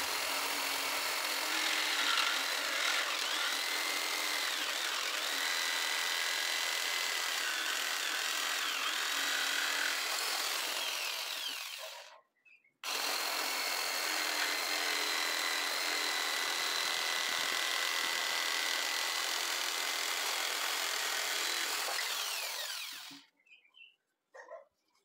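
A power tool rounds the corners of a homemade wooden tool, grinding steadily and loudly up close in two long passes split by a brief stop, then falling silent.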